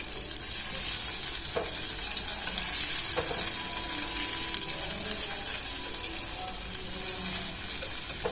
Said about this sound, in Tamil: ஸோ அனலும் நம்ம மீடியமாக வச்சு நம்ம ஃப்ரை பண்ணலாம்.